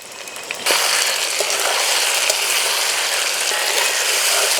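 Chopped tomatoes hit hot oil in a pan for a duck curry cooked with chui jhal, and a loud, dense sizzle bursts in after a moment of quieter frying, steady and close without talk.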